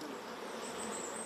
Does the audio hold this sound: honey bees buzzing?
yes